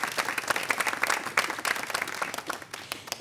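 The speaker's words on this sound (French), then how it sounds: "On applaudit pour les enfants." A TV studio audience applauds for children on a French television show, with steady, lively clapping throughout and a murmur of crowd noise beneath it.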